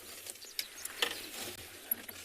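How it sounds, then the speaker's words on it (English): An eastern clapper lark makes its display sound in the South African bush: faint, scattered rattling clicks and sharp taps at a distance over quiet ambience. "That sound you heard was the eastern clapper lark."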